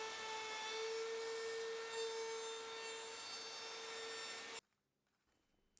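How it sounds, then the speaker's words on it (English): A loud, steady high-pitched whine of a wood router with a round-over bit rounding the edge of a hole in a wooden tray, holding for several seconds before cutting off abruptly into near silence. "I used a router with a round over bit to round over both sides of the hole."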